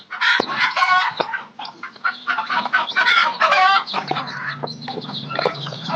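Several chickens clucking and squawking close by in overlapping bursts, with a rooster-like crow in the mix.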